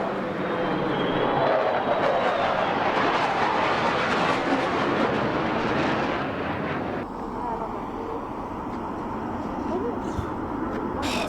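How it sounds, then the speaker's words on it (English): A B-52 bomber flies overhead, its jet roar loud and broad before fading to a lower, distant rumble in the second half, with no clear voices over it. "that B-52 bomber that went over his head, fucking badass"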